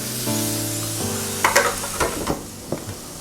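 Broccoli and red potatoes sizzle in a lidded pan while being stirred, with a steady frying hiss and a few louder scraping bursts near the end.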